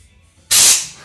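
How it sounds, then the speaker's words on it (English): A 1999 Harley Davidson Fatboy gets a sudden loud blast of compressed air that starts abruptly, holds steady as a broad hiss for about half a second, then fades slightly, after quiet near silence. "let's just give her a little shot of compressed air up in that sucker"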